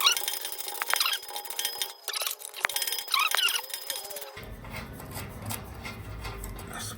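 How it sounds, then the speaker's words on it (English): A 16 mm exhaust bolt being worked loose with a wrench on a 2024 Ram 1500 5.7, sharp metallic squeaks and ratcheting scrapes up close, followed by a duller rubbing mechanical noise. "We're gonna take this bolt out."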